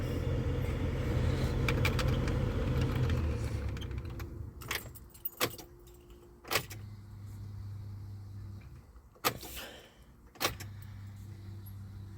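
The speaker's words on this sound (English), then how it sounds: "So I just want to prime it. Make sure the pump's still kicking on." A 2007 Pontiac Grand Prix GT fuel pump primes after a fuel tank swap, giving a steady low hum in two short runs. Sharp clicks and jangling keys sit between the runs, after a stretch of rustling handling noise.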